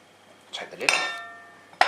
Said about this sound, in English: Take the lid off.